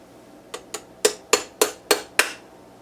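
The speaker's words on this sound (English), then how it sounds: "We're going to do that with a hammer punch, excuse me, with a bore punch." A bore punch is struck with a hammer to drive out the trigger hammer pin of a Wilson Combat 3-Gun tactical trigger. Seven sharp metallic taps come close and clear, two light ones then five harder, evenly spaced blows.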